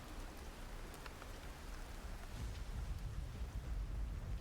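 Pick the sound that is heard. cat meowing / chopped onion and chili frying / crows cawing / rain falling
rain falling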